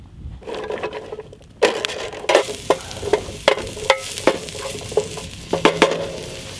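Oil crackles and sizzles in a hot pan at a beach wild camp, with sharp spatters and pops breaking out every half second or so, close by.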